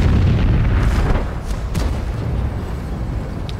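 A tank cannon fires in a tank battle video game, a loud, deep boom up close that rolls into a long rumbling tail, with sharper cracks from other shots behind it.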